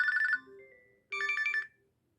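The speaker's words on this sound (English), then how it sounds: "everyone's looking at you because your watch is ringing" A Samsung Galaxy Watch 7 Ultra plays its incoming-call ringtone: two short bursts of bright, warbling electronic tones, close and clear, with quieter notes between them and no talking.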